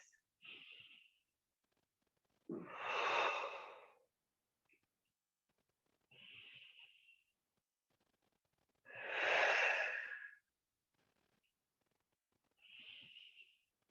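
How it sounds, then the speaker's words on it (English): Deep, slow breaths during a yoga session, each long inhale and exhale audible and close, repeating in a steady rhythm with quiet pauses between. "3 deep breaths."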